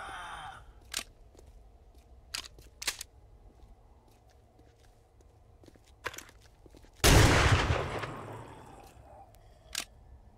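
A shotgun fires in the zombie survival game 7 Days to Die: a loud, close blast with a long, noisy tail, preceded by several sharp, brief clicks and thumps of handling, with a final click near the end.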